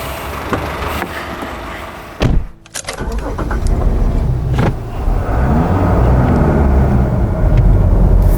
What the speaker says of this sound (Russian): Сейчас мы садимся в машину